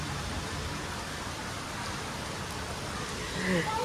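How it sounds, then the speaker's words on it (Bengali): Heavy rain pours down outdoors during a sudden weather change, a steady, dense wash of loud hiss that fills the whole clip without letting up. "কি সাংঘাতিক বৃষ্টি হচ্ছে।"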